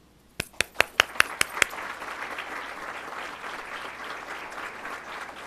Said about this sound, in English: Please join me in a round of applause for Mrs. Baird and the Baird family.